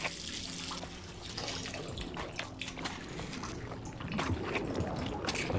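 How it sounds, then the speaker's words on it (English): A continuous gush of clean water sprays in the horror game Mike was Cursed. The rushing, tap-like hiss runs for several seconds, grows a little louder near the end, and has no talk over it. "Take that clean water in your face."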